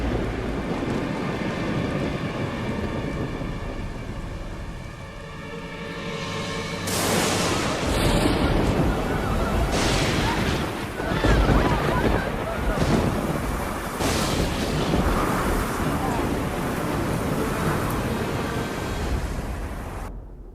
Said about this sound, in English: This storm must not cease until Vrindavan is completely submerged.